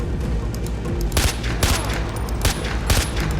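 Rapid bursts of automatic gunfire crackle in the Far Cry 4 video game, with several loud clustered volleys over a busy, steady background of game noise and no talking.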